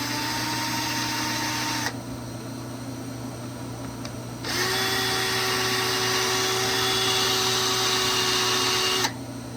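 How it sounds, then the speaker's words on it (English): Power tool machining metal parts for a fold-up welding table, a steady whining motor that switches off twice and then starts again, running loud and close with no talk. "A little more precision machining here."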